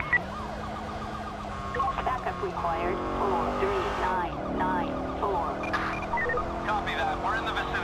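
A car engine roars and revs in a GTA 5 police chase, with shifting pitch, siren-like wails and skidding, as a voice speaks over it.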